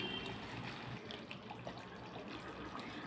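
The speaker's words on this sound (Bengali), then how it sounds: "আমাদের কষানো হয়ে গেছে এখন দিয়ে দিচ্ছি গরম জল" Hot water pours into a pot of Bengali mutton kosha with a continuous, faint splashing trickle that keeps an even level throughout.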